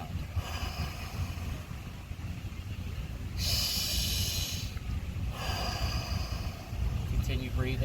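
Deep guided breathing, drawing air in through the nose and letting it out through the mouth, with two clear breathy rushes of air in the middle over faint background hiss.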